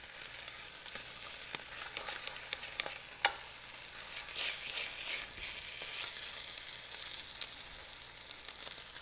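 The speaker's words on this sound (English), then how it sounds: "we're going to just make sure that these are browned on all sides" Short ribs sizzle quietly as they brown in a hot pan, a faint, even crackle of frying fat with occasional small pops and light stirring, heard without talk.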